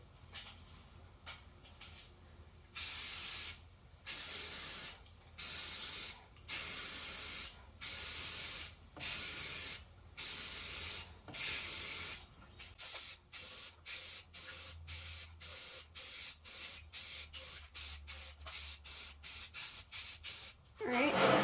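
Water is sprayed in short, loud hissing bursts while setting up for hydro dipping, regular pulses at first, then quicker, closer-spaced sprays toward the end.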